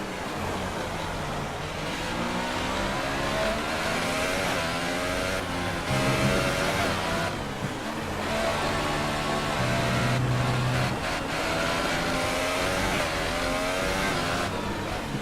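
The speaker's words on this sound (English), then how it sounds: "You can hear the car just fighting me." A Williams F1 car engine in F1 2018, high-pitched and continuously loud, rising and falling through gear shifts as the car races and brakes around the Spanish Grand Prix circuit, with no talking.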